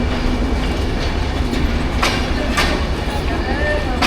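The Burimari Express passenger train runs between Rangpur and Santahar in Bangladesh, a loud, continuous rumble with rhythmic clickety-clack of wheels on rail joints, heard close up as if from aboard.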